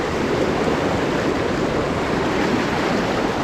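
Rushing river rapids on a Utah trout stream, a loud, steady broadband roar of churning water close by, with no talking.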